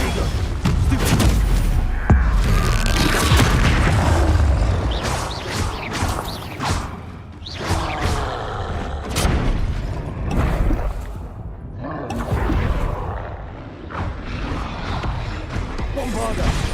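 Bombarda spells in Hogwarts Legacy set off loud booming blasts in a spell-casting fight. Repeated explosive bursts and whooshes come in uneven clusters, with spoken voices throughout.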